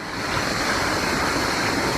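Strong water current rushing toward a waterfall in Hawaii while swimmers push against it, a steady, loud broadband roar with no break and no voices.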